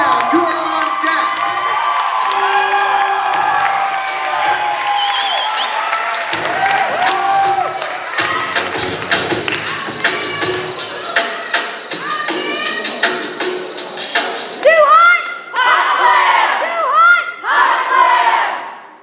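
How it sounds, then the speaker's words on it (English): A crowd at a youth poetry slam finals applauds and cheers for a poet, with dense clapping, whoops and shouts that swell into loud bursts of yelling toward the end. "Let's keep the applause going for the poet from Shawnee Mission South."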